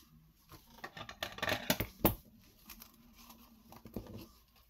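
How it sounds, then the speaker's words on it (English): Scissors cut through thick envelope paper in a crafting session, giving a run of close crunching snips and papery crinkles that build to a sharp cut, then fade into quieter rustling. "It's kind of thick right there. I'm going to have to use my scissors, I guess."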